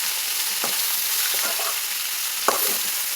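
Spinach is stirred into potato curry frying in a pan, giving a constant sizzle broken by a few soft scraping stirs.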